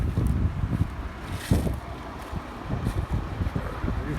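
Steady wind gusting across an open field on a cold, windy day, buffeting the microphone with low rumbling bursts and no one talking.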